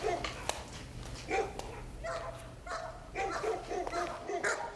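Several dogs bark and yip in repeated bursts, some close and some further off, with whimpers between them over a low steady hum.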